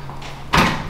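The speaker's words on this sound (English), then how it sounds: "Why are you knocking like that, man?" A single loud, close thud against a door lands abruptly after a quiet moment, a hard knock or bang that rings briefly before fading.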